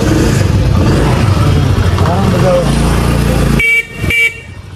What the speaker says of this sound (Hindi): यानी हॉर्न ठीक है